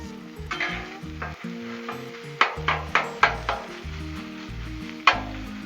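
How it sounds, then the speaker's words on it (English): Sausage, peppers, onions and potatoes sizzle steadily on a Blackstone griddle, a loud continuous frying hiss broken by several sharp metallic spatula scrapes and taps against the flat-top, with no talking. "The peppers and onions are starting to get a good little char to them now. That sausage is cooking."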